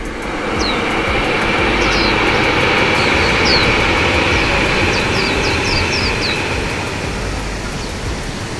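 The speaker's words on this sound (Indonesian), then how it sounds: "Ada kereta lagi tuh." A train rumbles past close by, loud and steady throughout, with faint high squeals and chirps over the continuous roar.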